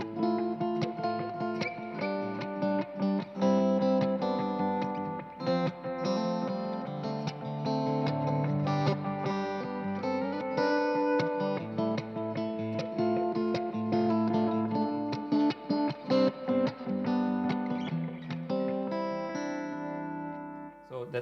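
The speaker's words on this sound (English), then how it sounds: "It has no modulation. It just has a nice, warm echo sound." Guitar run through a mini analog delay pedal, giving a warm, slightly dull echo with no modulation; chords and notes repeat in soft trailing echoes, played steadily and alone for about twenty seconds.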